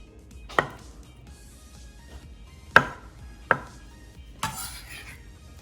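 A knife chops through very soft avocado on a cutting board, with four separate thuds spread unevenly over a few seconds and quiet pauses between them.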